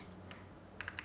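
A few quick keystrokes on a computer keyboard, soft and close, typing a short entry after a quiet moment.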